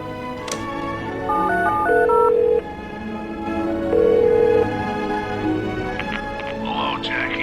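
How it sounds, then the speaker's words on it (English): Telephone keypad tones from The Darkness video game, a run of short electronic beeps followed by longer sustained tones, with game sounds and a voice in the background. "Let's make that phone call."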